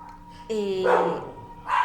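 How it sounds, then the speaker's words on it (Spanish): Two dogs bark close by, a drawn-out howling bark followed by another sharp bark, loud and clear with no talking. "un minuto en lo que mis perros se callan"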